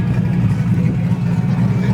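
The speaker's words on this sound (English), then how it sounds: "So the TVR seems like it's rolling out. This thing kind of chops." A TVR sports car engine rumbles low and steady with a choppy, loping idle, heard close and continuous for a short moment.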